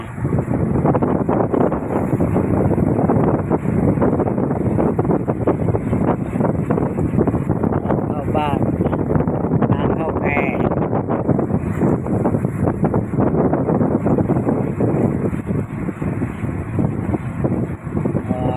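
Strong wind roars steadily over a small fishing boat out on open water near a raft, a loud, continuous buffeting that fills the whole stretch without pause.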